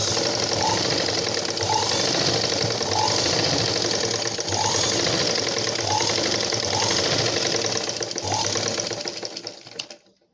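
A sewing machine stitches darts in a blouse with a loud, steady mechanical whir and rhythmic chugging for nearly ten seconds, then winds down and stops.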